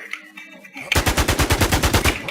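Rapid automatic gunfire in the shooter game Infestation rattles off in a fast, even burst of about fifteen close, loud shots after a brief moment of faint voice and background noise.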